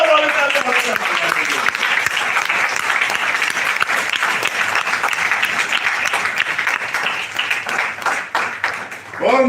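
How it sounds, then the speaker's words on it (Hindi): A seminar audience gives loud, dense applause that fills the room continuously for several seconds before tapering into scattered claps, with voices faintly mixed in. "जोरदार वाले ताली बजाना"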